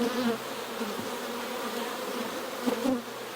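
Swarm of honey bees with big drones droning around an open brood hive, a continuous close buzzing hum that swells briefly near the end, with no voices.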